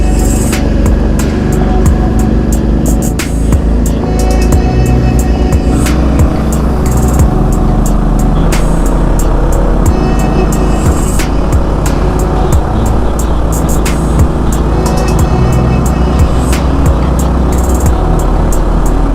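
A motorcycle rides a trail along the Trans-America Trail in Mississippi, its engine a steady, loud drone that holds throughout with no break or talk.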